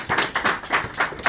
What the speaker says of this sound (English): Give a round of applause for those who presented.